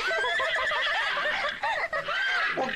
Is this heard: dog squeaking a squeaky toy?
no